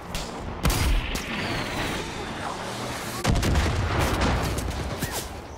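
Gunfire in Far Cry 5 rings out as two heavy booming blasts against a dense rumbling background of distant shots, explosions and noisy game action.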